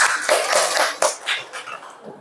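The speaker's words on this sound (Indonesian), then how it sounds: "beri tepuk tangan kepada kelompok 2" Classroom clapping for a student group during a school civics lesson, a short burst of hand claps from a small group, fairly close and moderately loud, without speech.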